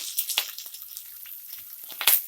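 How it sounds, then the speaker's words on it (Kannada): Chopped onions fry in a pan with chana dal and curry leaves for pepper rice, giving light crackles and soft sizzling pops up close, with a brighter spatter near the end. "ಫ್ರೈ ಮಾಡ್ಕೊಳ್ಳಿ. ಈರುಳ್ಳಿದು ಕಲರ್ ಚೇಂಜ್ ಆಗಬೇಕು, ಅಲ್ಲಿವರೆಗೂ ಫ್ರೈ ಮಾಡ್ಕೊಳ್ಳಿ."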